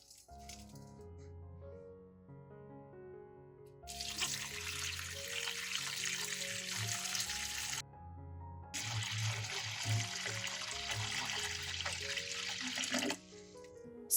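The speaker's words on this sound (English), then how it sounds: "pour in water to cover the ginger" Water poured into a basin of ginger mixed with a little baking soda, in two rushing bursts of about four seconds each separated by a short pause, heard over soft background music.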